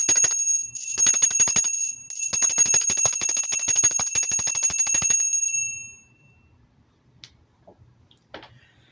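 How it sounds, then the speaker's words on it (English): A bell is rung rapidly and continuously for about five and a half seconds, a bright sustained ringing close by, then stops and leaves near silence with a few faint knocks. "I am going to clear the air as well with my bell"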